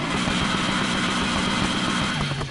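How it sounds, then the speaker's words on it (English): A supercar engine in Need for Speed Heat, rated over 1,000 brake horsepower, holding a loud, close, sustained growl with slight rises in pitch as it revs, heard alone. "Look at the sound of this engine on this car"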